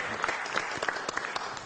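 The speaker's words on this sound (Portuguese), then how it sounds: "Vamos aplaudir o nosso pastor Taborda!" Audience applauding pastor Taborda at a civic event in Florianópolis, a steady wash of many hands clapping at moderate distance, continuous through the short stretch with a few sharper claps standing out.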